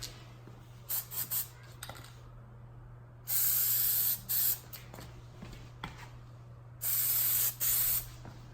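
An aerosol can sprays short bursts of Plasti Dip coating onto a Honda Accord emblem, several brief hisses followed by two longer, steadier sprays, close by and otherwise quiet.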